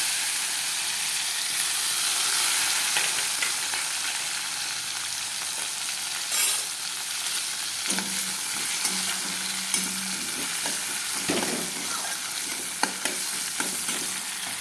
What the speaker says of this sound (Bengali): কুচানো পেঁয়াজটা দিয়ে দিব।